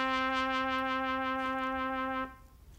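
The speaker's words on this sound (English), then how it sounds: "now I take another instrument and I play the same tone. In this case, I have a trumpet." A trumpet holds a single steady note for a little over two seconds, rich in bright harmonics with a slight pulsing waver, then cuts off cleanly into quiet room noise.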